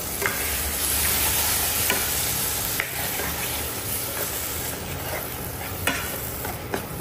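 Masala frying with tomato paste in a hot pan sizzles continuously, while a spoon stirs and scrapes through it with occasional sharp taps against the pan.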